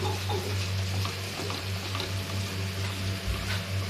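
Steady crackling sizzle of a tempering of onion, green chilli and chopped tomato in desi ghee, continuous and close, with a low electrical hum underneath and no talking.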